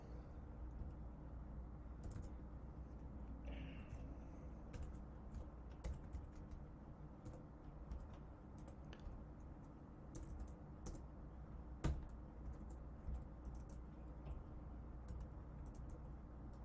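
Faint, sparse keystrokes on a laptop computer keyboard in a quiet room, with scattered clicks and one slightly sharper tap amid a low steady background hum. No one speaks.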